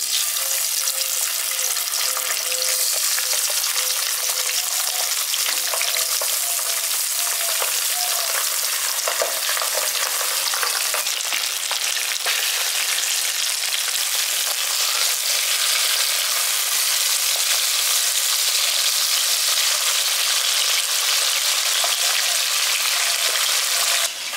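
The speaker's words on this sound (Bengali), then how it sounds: "তেলটা ভালোভাবে গরম হয়ে গেছে। এবার মাছগুলো আমি দিয়ে দিচ্ছি।" Pabda fish frying in hot mustard oil for a village-style dahi pabda curry, a loud, steady, hissing sizzle that runs unbroken for the whole stretch with no voices over it.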